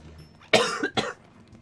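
Two sharp coughs in quick succession, close and loud, against a quiet background.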